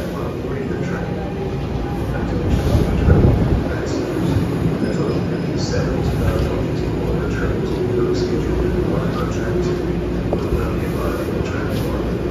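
An NJ Transit Northeast Corridor local commuter train rolls into Trenton station with a steady rumble of wheels on rails, intermittent squealing and clicking, fairly loud and close, a voice briefly audible over it.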